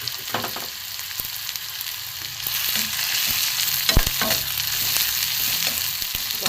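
Chopped garlic and onion fry in a pan with a steady, close hiss and crackle, joined by occasional scraping stirs of a utensil, and no one speaks.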